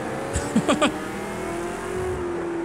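A V8 Supercar engine in the Project CARS 2 racing game at COTA drops through gears with a quick series of throttle blips, then settles into a steady, loud drone.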